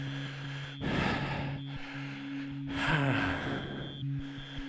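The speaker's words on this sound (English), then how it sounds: "Breathing." Heavy breathing during an indoor cycling class, with two loud, close gasping breaths over a steady hum of background tones.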